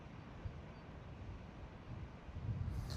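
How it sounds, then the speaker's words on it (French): A light, warm outdoor wind blows as a steady low rumble against the microphone, with soft gusts and no other distinct sounds. "tu l'entends depuis peut-être le début, mais il y a un peu de vent aujourd'hui"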